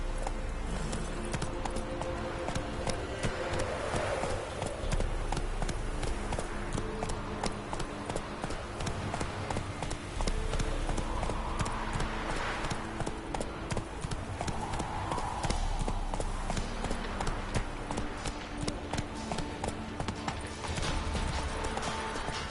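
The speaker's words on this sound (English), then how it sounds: "Not so fast, Roach" Horse hooves clip-clop steadily in Witcher 3 as the mount runs, a continuous rhythmic patter over busy game ambience that lasts throughout.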